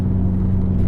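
Steady, loud low rumble of a Subaru STI exhaust with equal-length headers, a small resonator and no mufflers, idling or cruising in a continuous drone with no talk.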